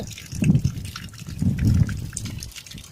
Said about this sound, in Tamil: மலை உச்சியிலேருந்து ஒரு வர தண்ணி இது இது இயற்கையாக வர தண்ணி இது